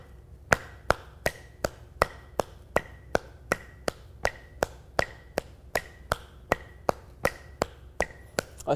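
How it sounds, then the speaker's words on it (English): About two dozen crisp hand claps land at an even, steady pace, each sharp and fairly quiet, with no talking between them. "Now we're going to begin clapping twice as fast as your foot."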